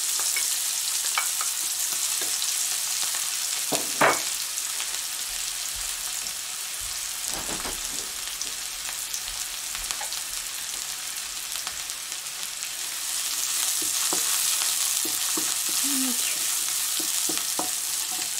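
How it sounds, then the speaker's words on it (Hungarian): Onion frying in a pan, giving a continuous hissing sizzle with a few scattered clicks and stirring scrapes. The sizzle grows louder toward the end. "A hagymát megpirítom egy picit."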